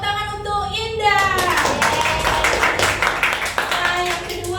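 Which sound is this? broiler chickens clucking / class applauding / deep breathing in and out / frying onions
class applauding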